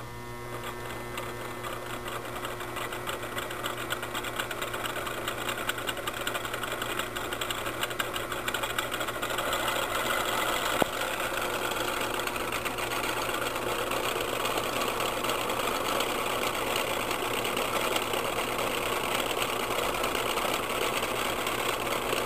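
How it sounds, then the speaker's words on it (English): A homemade three-phase AC motor runs on a bench power supply as the voltage is turned up, giving a steady, continuous electrical hum and whir with a faint rattle that holds evenly throughout, with no talking. "So we're just going to turn up the voltage here. Hopefully it works."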